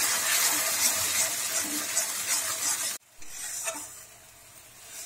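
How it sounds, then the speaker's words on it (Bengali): A thick ground spice paste sizzles and scrapes as it is stir-fried in a hot pan, steady and close, then the frying briefly cuts out and resumes more softly. "এবার এটাকে একটু লাল করে কষে নেব।"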